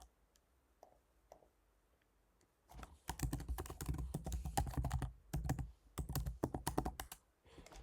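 A password is typed on a computer keyboard as a quick flurry of close, crisp key clicks in uneven bursts after a few seconds of near silence.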